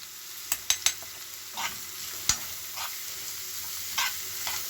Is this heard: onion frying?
yes